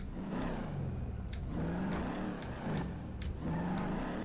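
A car engine in GTA 5 revs steadily and loudly, rising and falling in repeated surges of pitch with no voices over it.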